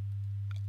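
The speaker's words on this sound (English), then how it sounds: "we will hear a 100 Hz sine wave" A pure 100 Hz sine wave test tone hums steadily and loud throughout, with a faint brief click partway through.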